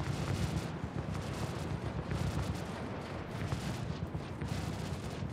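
Ship gunfire in the space game Star Citizen rumbles continuously, a dense, steady barrage of booming shots with no pauses, loud and heavy in the low end throughout.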